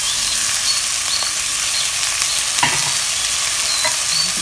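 Onion, garlic and celery fry in a pot, a loud, steady sizzle that hisses continuously, with a few faint scrapes of stirring.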